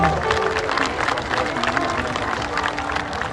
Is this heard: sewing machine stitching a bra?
no